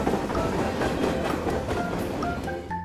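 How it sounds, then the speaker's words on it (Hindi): A train rumbles past as a sound effect in an animated Hindi comedy story, a steady clattering roar of wheels on rails that ends in a brief squealing, whistle-like tone. "एक रेलवे स्टेशन में जब ट्रेन जा रही थी"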